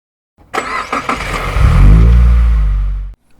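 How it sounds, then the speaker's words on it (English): A car engine cranks with a few sputtering turns, then catches and settles into a loud, steady idle that runs for about a second and a half before cutting off abruptly. "start the engine."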